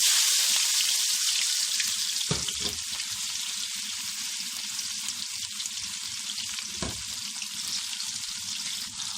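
Onions sizzle steadily in hot oil in a home kitchen pan, a bright, continuous hiss up close with a couple of soft stirring knocks and no voices.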